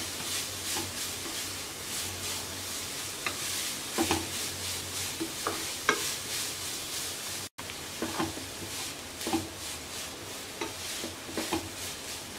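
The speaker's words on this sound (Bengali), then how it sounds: "এবার গাজরগুলোকে হালকা ভেজে নেব 2-3 মিনিট।" Grated carrots lightly frying in a pan for a carrot laddu recipe, a soft steady sizzle with occasional scraping and stirring taps from a utensil, quiet and close throughout.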